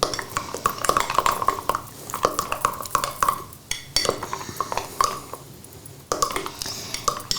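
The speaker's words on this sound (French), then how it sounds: "Et rebelote, on touille." A spoon stirs chocolate mug cake batter in a mug, giving a steady run of close, bright clinks and scrapes that pause briefly, then resume.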